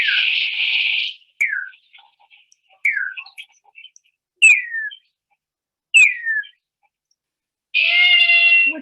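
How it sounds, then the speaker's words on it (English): Reunited male and female mice trade a run of high, whistle-like calls: sweeping chirps and downward glides that come in short repeated bursts separated by brief silences, with longer harmonic calls at the start and end. "So who knew mice could make sounds like this?"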